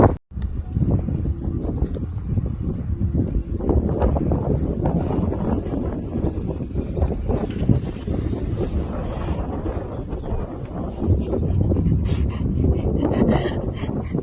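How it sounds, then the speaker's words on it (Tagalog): Strong wind roars continuously across the microphone, a dense buffeting rumble that stays loud and steady throughout with gusty surges. "malakas na ng hangin."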